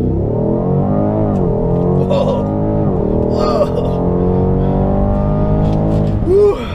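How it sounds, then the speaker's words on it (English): A 2018 BMW M550i's 456-horsepower twin-turbo V8 revs hard and repeatedly, climbing in pitch and dropping between gear changes, loud and close throughout. "twin turbocharged V8 making 456 horsepower"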